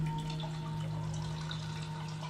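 Water flowing through a cave in the video game Sisyphus Reborn, a steady soft wash with a faint low hum underneath, continuous and even for the whole stretch, with no voices.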